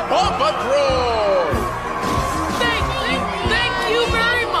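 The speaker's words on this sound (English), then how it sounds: "let's have a round of applause for Eunice, Ellie, Ryder, and the Paw Patrol" A circus audience claps and cheers for the Paw Patrol pups in an animated cartoon, with busy crowd noise, whoops and sharp bangs mixed in, while voices talk over it.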